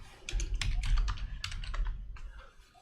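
Rapid keystrokes on a computer keyboard as a password is entered to log into a remote server, a close, fast run of clicks with brief pauses that slows and fades toward the end.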